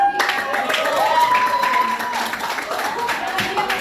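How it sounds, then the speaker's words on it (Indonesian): Classmates in a school classroom clap for a student during a lesson, a short round of applause with a voice speaking over it. "tepuk tangan buat"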